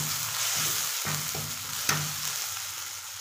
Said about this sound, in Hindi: प्याज ऐड कर दिया, उसके बाद टमाटर, सबको अच्छे से फ्राई करेंगे।